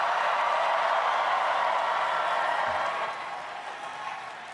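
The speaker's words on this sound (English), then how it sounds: "so please give them all a round of applause" Crowd applause at a mayoral election victory speech in New York City, a broad wash of many hands clapping that holds steady, then eases off toward the end.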